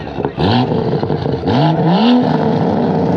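A car engine revving hard at a night car meet, with several loud rising and falling revs in quick succession, close by and dominating the scene.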